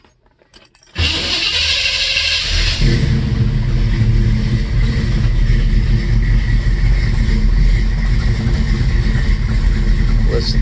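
A 1967 Chevelle Malibu engine turns over and fires after a moment of quiet, then settles into a loud, steady, rumbling idle close by that continues without a break.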